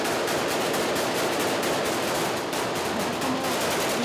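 Bursts of machine-gun fire and rifle shots rattle in rapid, overlapping volleys during urban fighting in Raqqa, Syria, loud and continuous throughout with no talk.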